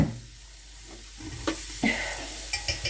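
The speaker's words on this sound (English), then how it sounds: "So let's put more onions in." Onions fry in a pot for chicken soup with a steady soft sizzle, broken by a few sharp clinks and scrapes of stirring.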